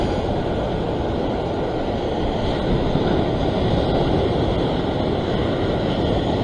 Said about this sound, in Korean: 저 치는 파도 힘이 엄청나기 때문에